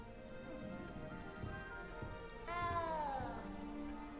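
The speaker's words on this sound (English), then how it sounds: "You don't need to be frightened, little cat." A small cat in the video game Hogwarts Legacy meows repeatedly, first in short soft calls and then in one longer, rising and falling meow, fairly close, over quiet ambient game sound with no talking.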